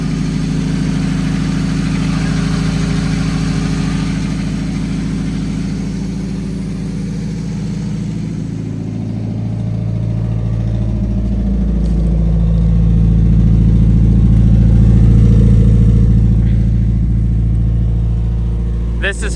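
Nissan 240SX engine idling with a leaky, holed exhaust, a loud, close, uneven rumble that holds steady and rises slightly in the middle, with no one speaking over it.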